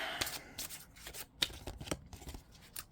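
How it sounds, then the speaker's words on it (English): Tarot cards are shuffled in quick, papery riffles and flutters, with a few sharper snaps, close and fairly quiet. "See, a little harder to shuffle."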